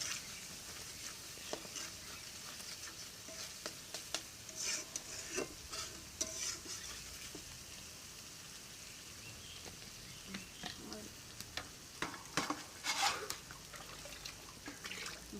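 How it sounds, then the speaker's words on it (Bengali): Spices with a little chilli powder frying in a pan while being stirred, giving a soft, faint sizzle with scattered scraping and clicking of the spoon against the pan throughout. "মরিচের গুঁড়ো অল্প, 1 চামচের থেকে অল্প দিয়ে সুন্দর করে ভেজে কষিয়ে নিব"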